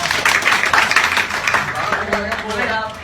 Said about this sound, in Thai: ขอเสียงปรบมือให้กับอาตาใหญ่ของเรา